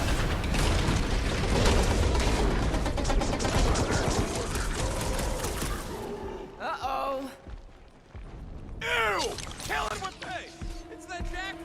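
Fireworks burst in the Guardians of the Galaxy video game, a dense crackling barrage of rapid pops filling the first half and then thinning out, with characters talking over it and tonal game effects later.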